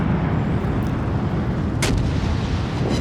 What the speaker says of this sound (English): You can see another salvo, another fire.